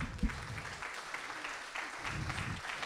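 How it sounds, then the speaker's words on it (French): Church audience clapping for the pastor, a steady wash of applause across the whole stretch with a few louder claps near the start, fairly close and full. "Est-ce qu'on peut applaudir le pasteur quand même?"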